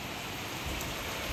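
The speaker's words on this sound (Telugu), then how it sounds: "వర్షం పడుతుంది." Rain falls in a steady, even hiss that holds at a constant moderate level throughout, with no talk over it.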